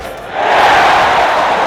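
Crowd at an Iowa Hawkeyes basketball game rising into a loud, sustained roar of cheering that swells after a brief lull and holds steady.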